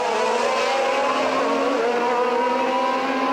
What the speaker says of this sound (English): this year has a totally different engine, and Lafitte tries to pass Cheever.